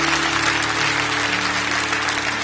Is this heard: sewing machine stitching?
no